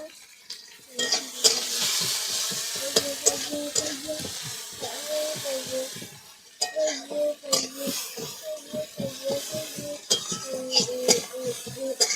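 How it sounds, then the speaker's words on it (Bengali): Chopped onions sizzle and fry in a pan at a village kitchen in the Sundarbans, with a steady hiss under repeated scrapes and clinks of a spoon stirring against the metal pot. "পেঁয়াজ কুচি দিয়ে দিচ্ছি"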